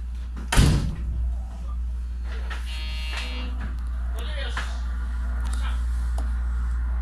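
Sliding doors on a JR Yosan Line train thump shut at a station before departure, followed by a short buzzing tone, all over a steady low motor hum inside the cab.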